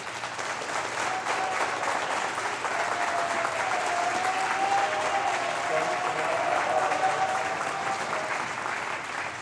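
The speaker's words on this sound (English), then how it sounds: "So a round of applause for all of our seniors." A choir concert audience claps steadily for the seniors, the applause dense and sustained from start to finish at a fairly even level, with no voices standing out.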